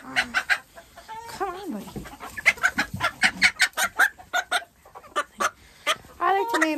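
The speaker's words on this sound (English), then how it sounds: "This one's like a bantam." Bantam chickens on a farm give a rapid run of close, clipped clucks with a few drawn-out squawks mixed in, while a person speaks softly to them in between.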